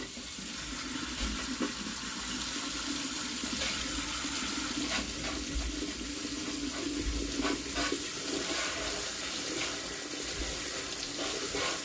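Hot water pours steadily from a tap as a hairbrush is rinsed under it, making a continuous close splashing hiss with faint irregular spatters and no talking.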